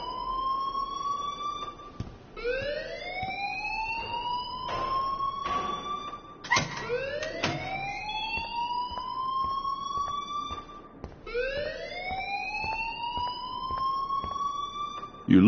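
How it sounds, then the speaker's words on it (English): A repeating electronic alarm siren blares in the Life Is Strange video game, rising in sweeping wails roughly every four to five seconds, loud and steady with sharp clicks and thumps between cycles. "please turn off that alarm since that's your job"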